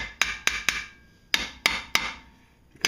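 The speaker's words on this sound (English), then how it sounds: "What I had done was hammer on them a little bit, just the pads, not on your rotor" Six sharp metallic hammer blows on seized brake pads, struck close up in two quick groups of three with a short pause between, each hit ringing briefly before dying away.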